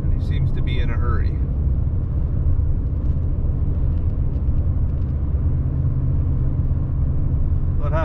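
A steady, loud engine rumble of a vehicle on a mountain pass, heard from inside a car with heavy low drone throughout and brief voices over it as a logging truck goes by.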